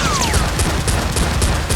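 Rapid gunfire in a Nerf gun combat video game: loud, fast volleys of sharp shots in an even rhythm, with a brief descending whistle near the start.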